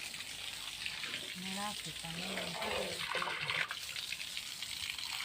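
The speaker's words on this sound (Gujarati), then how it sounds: "બગીચામાં પાણી પાવું પડે." Water is poured over garden plants in a steady splashing gush that runs throughout, while a person talks over it at moderate volume.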